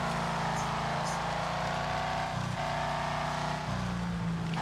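A car engine in the racing video game Wreckfest, a steady loud drone with shifting pitch and gear-change-like steps, heard continuously with no talk over it.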